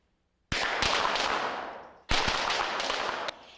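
Pistol fire at the Fairbanks Fish and Game Range during a shooting clinic, two bursts of rapid, sharp shots, each run lasting over a second with ringing echoes between reports, loud and near, no talking.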